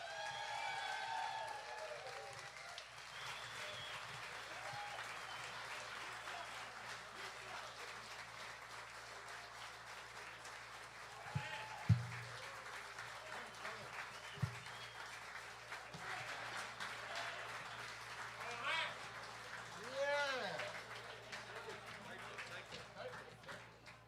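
Audience applause at a live concert, a sustained wash of clapping and crowd noise with a few louder thumps and some voices mixed in.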